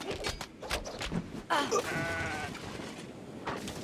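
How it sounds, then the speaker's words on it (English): Goats bleating during a battle in the game Kenshi, a drawn-out wavering bleat rising over rhythmic combat thuds and clatter, with no voices. "goats getting in on the battle"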